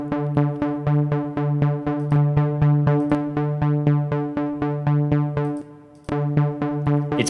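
A chord repeated in a steady pulsing rhythm runs through a TAL-Chorus-LX chorus effect set to fast modulation, giving a quick wavering shimmer; one short gap breaks the pattern near the end, and no one talks.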